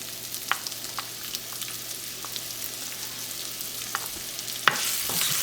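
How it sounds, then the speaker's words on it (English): Onion frying in a pan for aloo and dhal kachori, a soft steady sizzle with a few clinks of stirring, and a louder scrape near the end as it is moved around. "And cook until onion gets translucent."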